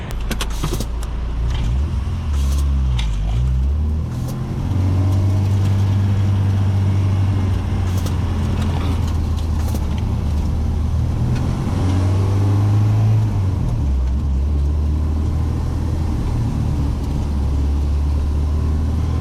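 An Acura Integra engine runs steadily nearby, its pitch holding at a raised rev level on 2-step launch control for stretches before dropping back.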